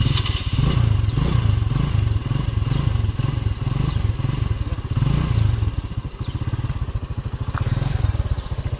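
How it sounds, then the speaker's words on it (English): A small engine chugs and rattles loudly nearby, running with an uneven rhythmic putter that shifts pace midway. "the engine will start without any hesitation"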